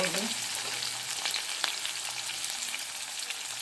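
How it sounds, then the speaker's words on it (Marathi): Ajwain, cumin, onion and curry leaves fry in oil, making a continuous soft sizzle with light stirring scrapes and a few small pops, fairly close. "कढीपत्ता तड लागलेला आहे त्यामध्ये ओवा जिरं घालून घेऊया कांदा घालून घेऊया"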